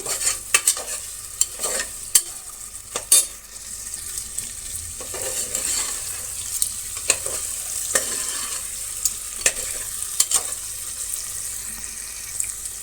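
Paneer frying in a pan for paneer biryani, a steady close sizzle broken by repeated sharp scrapes and clicks of a spoon stirring against the pan.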